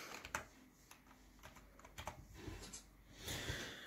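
Typing on a Kingston Fury Hurricane keyboard with loud, mechanical-style keys: a fast, irregular run of sharp close clicks and clacks, with denser bursts toward the end.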